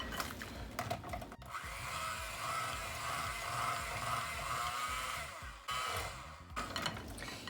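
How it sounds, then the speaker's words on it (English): A handheld electric mixer whirs steadily while mashing cooked sweet potatoes in a bowl, loud and continuous, with brief dips as the beaters lift or change speed. "I like to go in with my handheld mixer"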